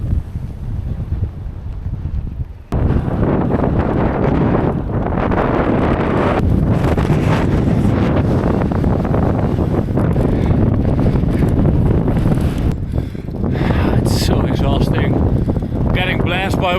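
Strong headwind buffets the microphone while cycling across Kansas, a loud continuous roaring rush that starts after a quieter opening few seconds, with a voice speaking over it.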